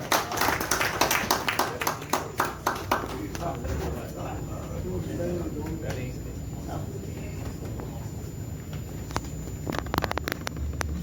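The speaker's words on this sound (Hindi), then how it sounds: "एक बार फिर जोरदार तालियां आसिफ साहब।" Audience at a farewell ceremony and poetry gathering claps loudly for a guest: a burst of quick, crowded clapping that tapers off over a few seconds, after which someone speaks into a microphone.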